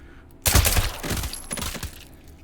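A burst of rapid rifle shots from an AR-50a1 in the VR game H3VR. The volley is loud and close, then trails off into a few scattered echoing cracks before fading.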